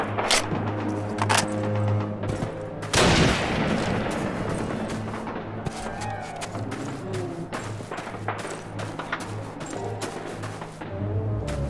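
Sniper and rifle gunfire in Call of Duty's Soviet campaign at Pavlov's House, with sharp scattered shots and a loud blast early on, set against a continuous battle din and low rumble.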